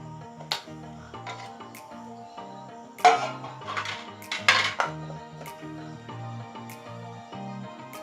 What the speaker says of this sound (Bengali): তো গ্যাসটাকে জ্বালিয়ে একটা কড়াই চাপিয়ে দিলাম।